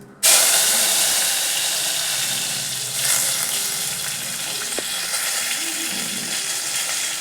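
Curry leaves sizzle in hot oil while a Tamil fish curry for bachelors is cooked, giving a loud, steady hiss and crackle that starts abruptly and runs the whole time with small surges, no talking.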